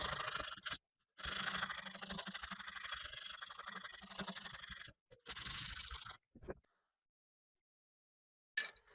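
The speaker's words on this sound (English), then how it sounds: "Now I'm going to use sandpaper to make the edges more kind of round." Sandpaper rubbing back and forth along the edges of a wooden guitar headstock to round them, a close, gritty, continuous scratching in long strokes broken by brief pauses, then silence near the end.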